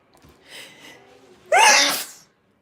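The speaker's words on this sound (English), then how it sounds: "I'm about to sneeze" A single loud, close sneeze bursts out after a soft sniffing, breathy build-up, then stops abruptly, followed by quiet.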